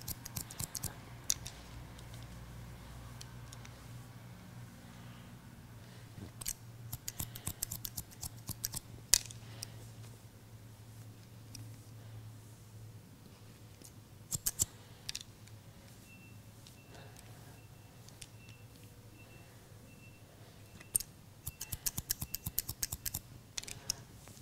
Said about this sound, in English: I'm just going to softly point cut.